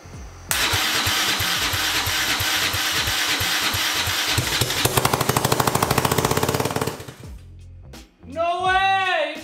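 A turbocharged EFI 660 lawnmower engine cranks, catches and runs briefly, loud and close with a rapid pulsing beat, then cuts out, and a voice speaks right after.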